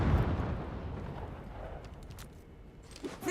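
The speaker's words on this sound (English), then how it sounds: "Frag grenade is hot" A frag grenade detonates in the mobile shooter Rainbow Six Mobile, a dense low boom that opens loud and decays into a rumbling tail, with a few faint clicks and a small burst at the end.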